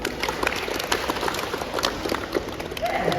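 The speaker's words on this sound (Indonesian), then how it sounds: "berikan aplaus dulu" Students in a classroom applauding, a steady patter of scattered handclaps lasting a few seconds at moderate loudness, with room noise and no speech.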